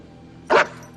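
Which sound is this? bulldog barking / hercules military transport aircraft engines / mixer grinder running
bulldog barking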